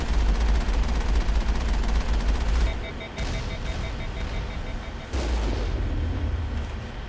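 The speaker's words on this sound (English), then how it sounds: "I think I just intercepted a missile there." A missile intercepted and exploding in the sci-fi video game Mass Effect, a loud rumbling blast with dense low-end booms and gunfire-like crackle, cutting off abruptly and then swelling again, with a voice talking over it.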